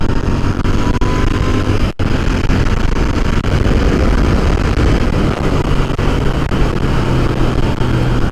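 A Royal Enfield motorcycle engine pulling hard under acceleration, a loud continuous drone mixed with rushing wind blast across the microphone, steady throughout apart from one brief dropout.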